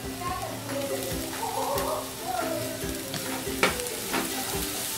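Green chillies frying in a pan with onion and garlic-ginger paste for an egg malai curry, a steady sizzle with stirring clatter and occasional knocks, while voices, including a child's, murmur in the background.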